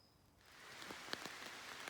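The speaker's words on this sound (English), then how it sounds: "It's raining, but the camouflage tarp is keeping the rain off of me" Rain pattering on a camouflage tarp strung over a hammock at a forest campsite, a soft steady wash with a few distinct nearby drops striking the fabric, fairly quiet and with no voices.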